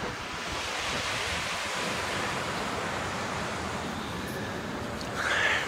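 Waves wash onto a beach with wind buffeting the microphone, a steady broad rush of surf close and fairly loud throughout, with no one speaking.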